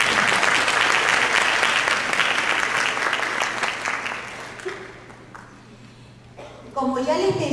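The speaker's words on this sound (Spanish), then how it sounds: "Un aplauso para él" An audience applauds steadily for several seconds, the clapping fading out before a voice starts speaking at the end.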